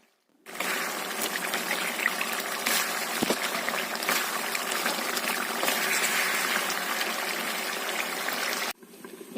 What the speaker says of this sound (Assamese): এতিয়া গোটেইখিনি অলপ টাইম ভাজি ল'ম।